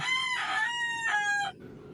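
A rooster crows loudly and close by in Basak, Cebu City, a single drawn-out call with a rising and falling pitch that ends abruptly.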